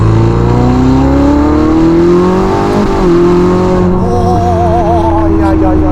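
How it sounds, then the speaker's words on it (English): A Novitec-tuned Ferrari SF90 Spider with a twin-turbo 4-litre V8 paired with electric motors, rising in a loud, steady, close drone, rev climbing smoothly and then wavering. "sat right behind me is that infamous twin turbocharged 4-litre V8 engine"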